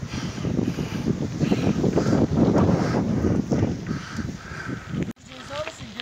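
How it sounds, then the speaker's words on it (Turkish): Strong wind buffets the microphone in loud, uneven gusts during a bicycle ride, with a brief cut near the end. "Aşırı rüzgar da var."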